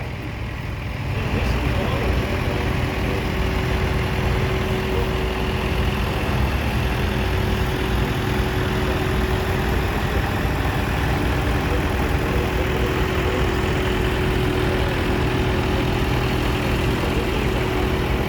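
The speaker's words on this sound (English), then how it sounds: "Well, we got Mike Curtis here on a little Massey Ferguson 35." A Massey Ferguson 35 tractor engine runs steadily with a continuous low rumble, starting after a brief quieter moment and holding an even drone, during a machinery show parade.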